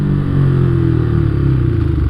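A Yamaha R125 motorcycle on a ride, its engine giving a steady, loud, close drone with low harmonics and a slight rise and fall in pitch, no voices over it.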